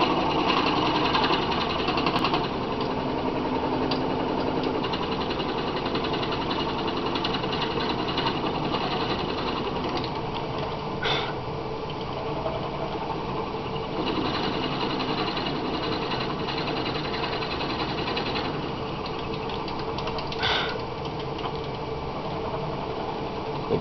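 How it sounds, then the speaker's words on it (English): A lathe drill bit bores steadily into a wooden pipe block, held by the tailstock, giving a continuous whirring, grinding mechanical drone for the whole stretch with slight ripples in intensity and no talking. "get the tailstock zeroed out and bring the bit up to touch the end of the block"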